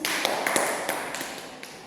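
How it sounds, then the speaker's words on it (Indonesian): Scattered, light taps and claps in a classroom, a brief smattering of applause for a student rather than a full ovation, fading over about two seconds. "Coba beri aplaus untuk Khalid."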